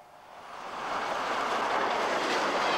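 The Flying Scotsman steam locomotive hauls an exhibition train past onlookers in Australia, a steady rushing roar that builds from moderate to loud and holds, with no voices.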